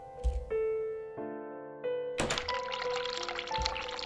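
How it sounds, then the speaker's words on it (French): A sink tap runs in the video game The Cat Lady, with a clunk as it turns, a pour of water and then a louder gushing flow, over tonal game music. "Faire couler de l'eau froide, faire couler de l'eau chaude, fermer le robinet."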